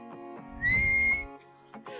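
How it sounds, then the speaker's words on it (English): A person whistles a short, rising clear tone close to the microphone, lasting about half a second, amid background noise and brief murmurs. "Ask them if they can whistle."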